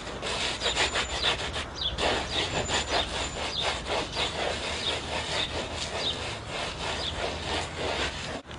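Zeolite mineral granules are ground into an oil spot on a cement driveway under a shoe, giving a steady, rhythmic, gritty scraping of repeated strokes, close and fairly loud throughout.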